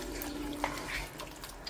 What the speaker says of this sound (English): So I'm going to add some water now.